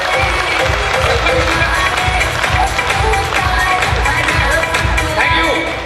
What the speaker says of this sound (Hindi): तो मैं चाहूंगा आप सब लोगों से भारतीय सेना के लिए एक बार जोरदार तालियां बजाएं साथियों।